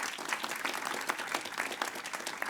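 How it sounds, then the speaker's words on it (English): Press-conference audience applauding, a steady burst of many hands clapping at moderate volume, continuous and evenly dense throughout with no voices on top. "Let's give everybody a big round of applause."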